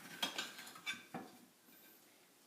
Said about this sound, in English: Just going to cut our lemon in half.